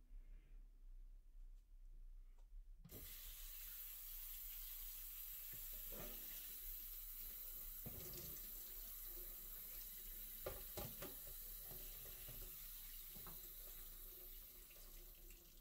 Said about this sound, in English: you want to give these cherries a good rinse